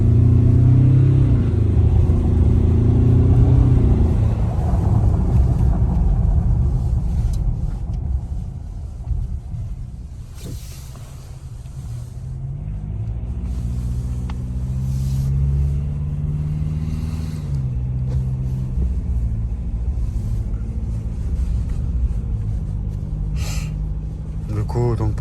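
A heavy Ford Ranger diesel pickup weighing about 2.5 tonnes pulls away under acceleration, its engine rumbling loudly and rising in pitch at first, then easing into a steadier, lower drone.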